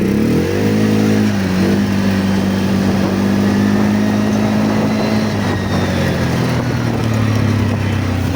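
A CF Moto 400 motorcycle runs on ice, its engine droning steadily and loudly throughout, with pitch rising and falling as it revs and accelerates close by.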